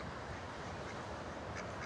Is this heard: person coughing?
no